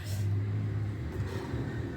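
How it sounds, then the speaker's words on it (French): A large tractor passing outside a house produces a low, steady engine rumble with a deep droning hum, fairly faint and muffled as if heard through walls, continuous across the moment with no talk. "J'ai beaucoup de gros tracteurs qui passent et ça fait un bruit monstrueux."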